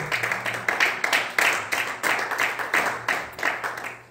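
A church congregation claps in unison during a sermon, steady rhythmic claps at a quick regular beat, loud and close, with a low hum underneath.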